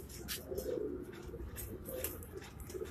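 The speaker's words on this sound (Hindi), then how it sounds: "ये सलारे हैं जी कबूतर इनके।" Soft, low pigeon coos repeat nearby on a Karachi rooftop over faint background chirps and rustle, with no speech.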